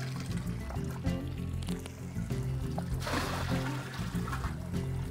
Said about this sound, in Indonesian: airnya kita buka, air keran.